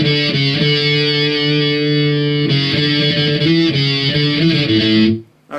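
Distorted electric guitar riff, loud and continuous with steady picked notes shifting pitch across the phrase, then cutting off abruptly near the end; no talking.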